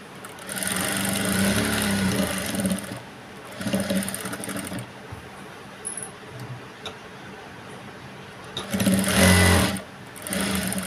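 A sewing machine stitches along the edge of blouse fabric, running in several loud whirring bursts separated by short pauses.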